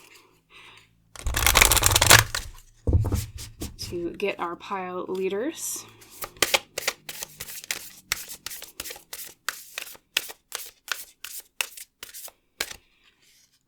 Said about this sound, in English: let us shuffle the cards